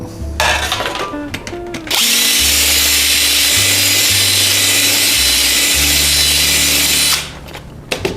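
A power drill whines steadily for several seconds as it bores through material, loud and close, with brief clicks and handling noise before and after.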